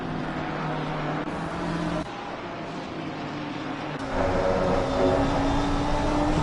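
BMW race car at Silverstone, its engine droning steadily and shifting pitch as it runs on track, fairly loud and continuous with no talk.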